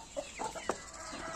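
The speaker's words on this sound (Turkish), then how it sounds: "Bana horozu ver." A rooster gives several short clucks and one sharper squawk, close by and moderately loud, over a steady background murmur.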